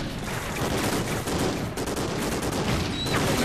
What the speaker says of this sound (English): We're shooting him.